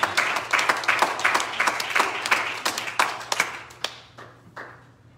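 A church congregation claps in unison to a steady beat of sharp, crisp hand claps about two or three per second, over a low hum, thinning into scattered claps before stopping.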